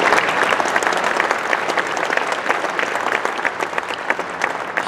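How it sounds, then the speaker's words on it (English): Attendees at the 2022 WSSA annual meeting give a round of applause, loud, dense clapping from a sizable crowd that holds steady for about five seconds. "let's have a round of applause for supporting 110 students this year"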